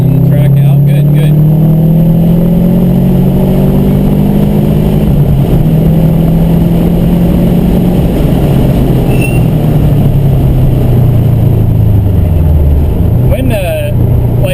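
A Subaru STI on an autocross course, its engine loud and close as it revs and shifts, rising and falling in pitch throughout, with voices talking over it.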